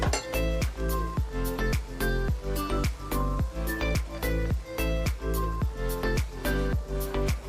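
Maggi noodles stirred with a cheese slice in a pan: a steady, rhythmic series of metallic clinks and scrapes from a utensil against the pan, close and continuous, with no talk.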